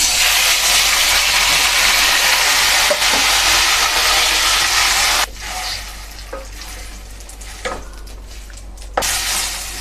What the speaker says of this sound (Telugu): పోపు అయిందండి టమాటా వేసుకుందాము